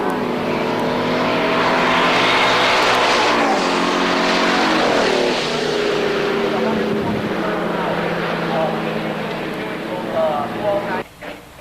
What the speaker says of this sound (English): There they go. Looks like no tire spin for both cars.